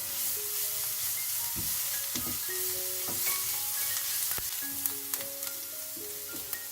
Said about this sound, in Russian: Кладем морковь. Все вместе обжариваем еще 3 минуты.